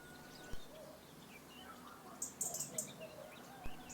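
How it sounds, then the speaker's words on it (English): A common chiffchaff, a small leaf warbler foraging on Portuguese farmland, gives a few faint, short high chirps in a quiet outdoor setting with soft background noise. "The common chiffchaff, what a name, always announces their entrance."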